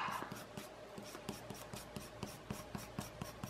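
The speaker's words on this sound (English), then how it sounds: "Let me erase my little bit of pencil marks" Pencil marks being rubbed out on paper with an eraser, a steady quick back-and-forth scrubbing with regular strokes, close and fairly quiet, with no talk.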